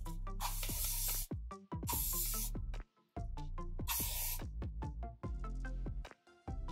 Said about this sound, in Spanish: Le voy a poner un poquito de spray de fijación.